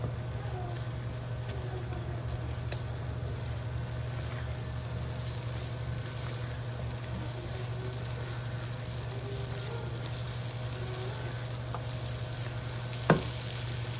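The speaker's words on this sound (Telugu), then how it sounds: "బాగా కలపండి బాగా ఫ్రై అవ్వాలి చూసారా ఇలా ఆయిల్ పైకి వచ్చే వరకు వేపారు కదా" Masala for egg masala curry frying in hot oil in a pan, giving a steady close sizzle throughout with one brief sharp clink near the end.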